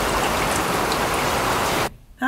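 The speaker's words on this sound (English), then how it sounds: "As you saw, it was raining." Steady rain pours down in a dense, even hiss of falling drops, loud and close, before cutting off abruptly near the end.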